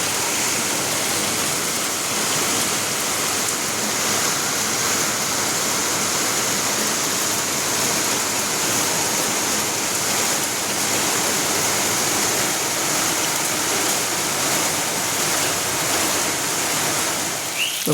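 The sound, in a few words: rain falling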